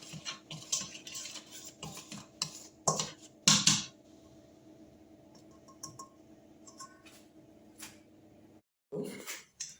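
A spoon stirs a fondant mixture in a pot, giving irregular light scrapes and clinks against the sides with brief pauses, close and fairly quiet, no voices.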